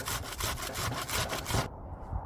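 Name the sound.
grating an onion into a bowl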